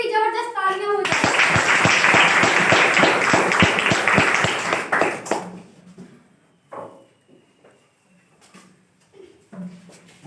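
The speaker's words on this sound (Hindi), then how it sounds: "एक बार उनके लिए भी जबरदस्त तालियां हो जाए।" Enthusiastic audience applause fills a room at a business meeting, a dense burst of clapping that lasts about four seconds and then fades into scattered voices and quiet.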